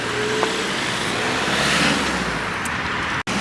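Cars drive past on a village road in Poland, a steady close roar of tyres and engines filling the whole stretch, with no voices on top.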